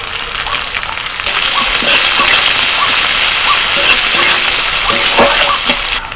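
Chopped onion and green chilli dropped into hot oil with garlic and cumin, a loud, dense, continuous sizzle and crackle heard up close, with occasional spatula scrapes.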